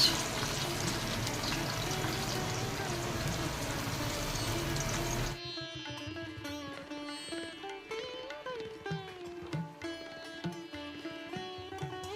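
Water steadily poured into a pot of cooking meat and onions, a continuous close splashing and trickling for about five seconds that then gives way to quieter sizzling.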